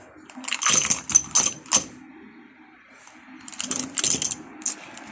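Engine push rods for an LS1 V8 rebuild being unwrapped, producing bursts of light metallic clinking and jangling in two clusters separated by a short pause, close and moderately loud.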